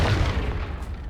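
A Confringo blasting spell in the video game Hogwarts Legacy goes off as a heavy, close explosion, a deep boom that fades over about a second.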